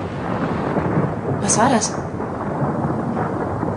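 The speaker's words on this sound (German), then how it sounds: "Donner." Thunder from a heat storm over an Australian farm, a continuous low rumble filling the whole stretch, with a voice briefly speaking over it.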